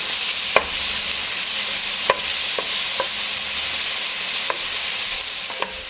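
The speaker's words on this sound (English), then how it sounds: "once you see that your bacon is browning up, everything is browning" Bacon chunks fry and brown in a pot with a loud, dense, steady sizzle, punctuated by several sharp spoon taps and scrapes against the pot at irregular intervals.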